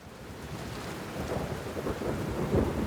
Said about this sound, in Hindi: तेज बारिश, कड़कती बिजली